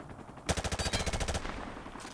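A rapid burst of automatic gunfire from a video game rattles out for about a second, the shots evenly spaced and fairly loud before fading back to quiet.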